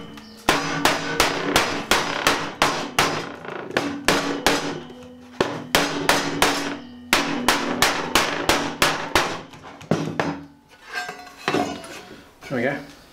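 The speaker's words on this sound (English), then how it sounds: "Bend it on the line, like so, and then just hammer it to a nice," Rapid, sharp metallic hammer strikes ring out in fast bursts as metal is bent to a curve on a bench edge, loud and close, with brief pauses between runs.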